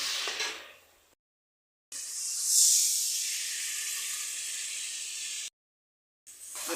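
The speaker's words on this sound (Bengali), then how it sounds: "এখন মশলা দেওয়া হবে মিক্সারে করে নেওয়া হয়েছে জিরে আদা রসুন শুকনো লঙ্কা" A ground paste of cumin, ginger, garlic and dried chilli hits frying onions for a silver carp curry, giving a steady close hiss that swells briefly, then settles into an even sizzle.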